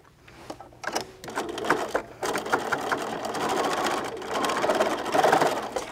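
A sewing machine stitches fabric edges together in quick mechanical bursts, starting and stopping, then running steadily and close.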